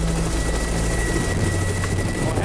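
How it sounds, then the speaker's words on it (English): A Kamov helicopter with two counter-rotating coaxial rotor sets and no tail rotor gives a loud, continuous close-up thrum of blades and turbine whine, steady from start to finish. "The two counter-rotating sets of rotors means the Kamoff doesn't need a tail rotor to stop the helicopter body from spinning."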